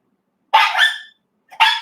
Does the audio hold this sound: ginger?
no